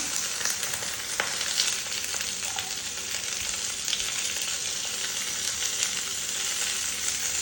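Chillies, curry leaves and onion sizzle in hot oil with a steady, dense crackle and occasional stirring scrapes, heard close and without any voices.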